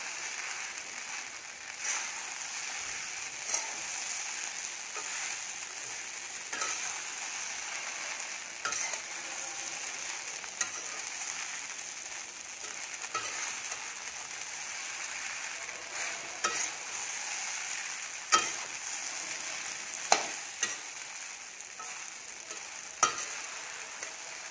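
Sabudana khichdi with potatoes sizzles softly in a frying pan while a spatula stirs and scrapes, giving quiet continuous frying hiss punctuated by irregular clicks and scrapes against the pan.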